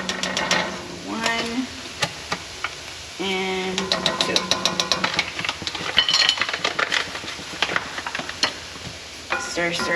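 Flour being stirred into a hot pan as the base for a cheese sauce, with quick scraping strokes and a soft sizzle.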